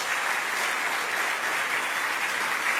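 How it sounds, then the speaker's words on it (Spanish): A church congregation gives a strong, steady round of clapping in praise during a worship service, dense and even from start to finish, loud and without speech. "Levántale un fuerte aplauso a la gloria del Señor"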